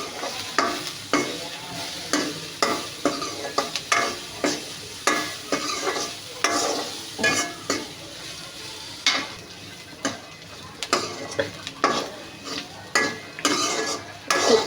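Masoor dal with a little turmeric is stirred and fried in a pan, giving a steady sizzle broken by repeated scraping strokes of a spoon against the metal, close and fairly loud, with no talking.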